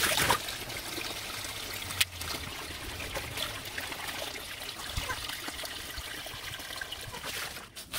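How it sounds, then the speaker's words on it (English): Water trickles steadily into a container in a garden setting while a compost tea is being prepared, a continuous soft pouring stream lasting several seconds with no talk over it. "I need to fill this up with water."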